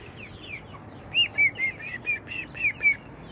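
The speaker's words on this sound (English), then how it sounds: "Look at all these chickens." Chirpy bird calls come from a roadside collection of chickens and ducks, a run of about eight short, evenly spaced tweets at moderate distance over a soft background hiss, with no talking.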